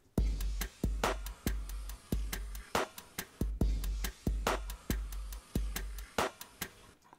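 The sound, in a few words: drum track played on its own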